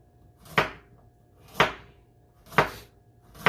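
A knife chops through a pungent onion, slicing it into rounds: four crisp, evenly spaced cuts roughly one second apart, close and clear, with no voices.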